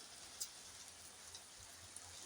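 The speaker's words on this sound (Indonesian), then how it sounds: "Hujan euy." Steady rain falls outdoors as a faint, even hiss, with a few soft drop ticks scattered through it and no voices.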